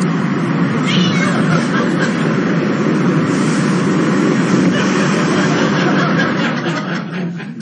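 A cat meows over a dense, steady wash of broadband noise, its voice fairly loud but partly buried in the continuous background.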